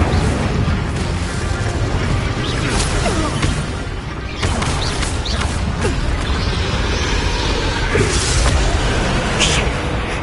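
An Incendio fire spell in Hogwarts Legacy roars amid continuous loud combat noise, with whooshing bursts, booming impacts and crashing debris layered densely and close for several seconds, faint voices mixed in.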